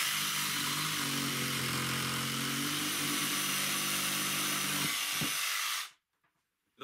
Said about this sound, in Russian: И сейчас я попробую флажок поставить на быстрый рез и посмотрим, как справится лобзик